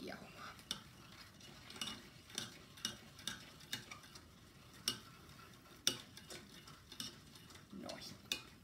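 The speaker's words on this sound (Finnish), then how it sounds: "Sekoitetaan täällä kattilassa." Batter being stirred in a saucepan, a spoon scraping and tapping the pan in a steady rhythm of repeated strokes, close and fairly quiet with no talking.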